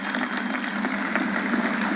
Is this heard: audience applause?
yes